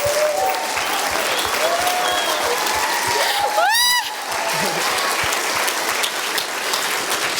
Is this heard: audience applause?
yes